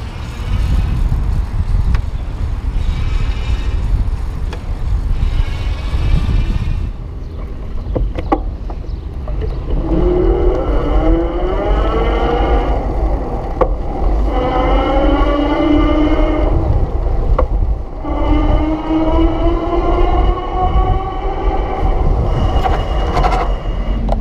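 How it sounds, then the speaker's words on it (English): Solex Solexity 400 electric bike motor running in pedal assist: a rising and falling electric whine that climbs in pitch as the bike speeds up, close and loud over road and wind rumble. "watch for the motor and kind of listen, because the motor isn't immediately responsive"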